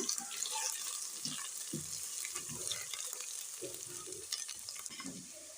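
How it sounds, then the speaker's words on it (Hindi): Chopped onions frying in ghee, a steady close sizzle with soft scraping stirs repeating every second or so. "अब इसमें जी तो चॉप हुई अनियन मैंने ऐड किए हैं। अब इसको गोल्डन कलर आने तक हम इसको पकाएंगे, इसे मिक्स करेंगे।"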